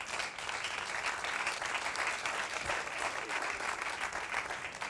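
A comedy show audience claps steadily for several seconds, a dense, even wash of applause heard from within the room at moderate level, with no talking over it.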